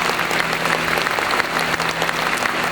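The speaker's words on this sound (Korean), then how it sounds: "여러분 박수로 응원해 주시기 바랍니다" Steady applause fills a hall during a pastors' ordination ceremony, dense and continuous for a few seconds with a low hum underneath and no voices on top.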